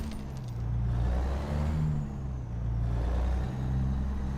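A truck engine in American Truck Simulator with realistic mods idles and revs with a low steady rumble, rising and falling in swells, fairly quiet overall.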